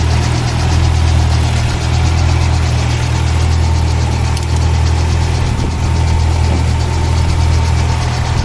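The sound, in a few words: car engine idling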